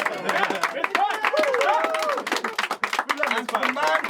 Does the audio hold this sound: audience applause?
yes